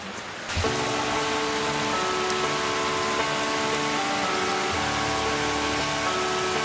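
Steady rain falls in the Jogne gorge, a dense, even hiss starting abruptly after half a second and continuing unbroken, close and fairly loud, with no voices.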